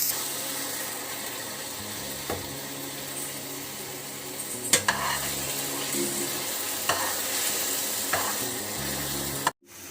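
A spoon stirs sugar into apple halwa in a hot pan, with a continuous soft sizzle and scraping, plus occasional louder knocks and scrapes against the pan, steady and close.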